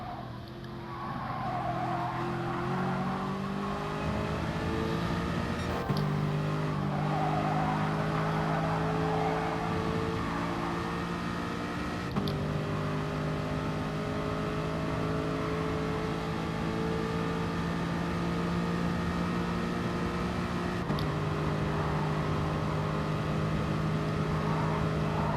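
A race car engine in GT Sport holds a steady high drone as it accelerates and shifts through gears, with tire squeal on corners and loud, continuous engine tone throughout.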